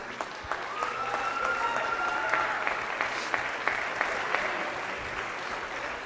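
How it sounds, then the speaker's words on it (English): Crowd at a junior varsity basketball championship game applauding the all-tournament team, steady moderate clapping with a few sharp individual claps standing out, heard from within the gym. "So give them a round of applause."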